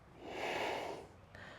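Single deep, audible breath during a yoga stretch, a long airy exhale swelling and fading over a second and a half, close and alone with no talking.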